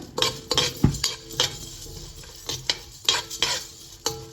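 Cumin seeds stirred and fried in a pan: a close series of irregular metal scrapes and clinks from the spoon against the pan over a faint sizzle, with no speech.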